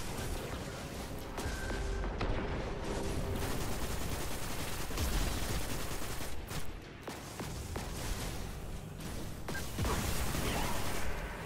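Dense, continuous weapon fire in the video game Destiny rattles close and loud for the whole stretch, with rapid bursts, impacts and brief dips between volleys.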